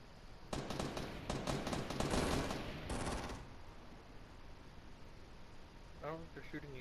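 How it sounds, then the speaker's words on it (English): Rapid bursts of automatic gunfire rattle in Fortnite for about three seconds, moderately distant, then fade to ambient noise. "I think the person on the hill is shooting the people who are building"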